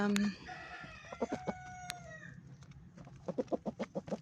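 Turkeys received as a gift call close by: one loud harmonic cry opens, and a quick series of clucking, gobbling notes follows.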